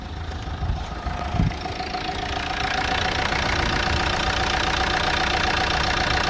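A Renault Megane 2 1.5 dCi diesel engine idles nearby with a steady, even rumble and clatter, after a few brief knocks at the start.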